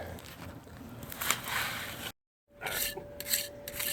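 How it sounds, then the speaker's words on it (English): Trowel smoothing wet concrete mix in a walkway mold for a paver path, giving close, gritty scraping and rubbing strokes in two bursts separated by a brief silent gap. "Alright, we're filling this up, and then I'm going to trowel it out."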